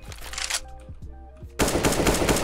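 Counter-Strike gunshots: a short burst early, a brief lull with scattered clicks, then a loud sustained spray of rapid automatic fire to the end.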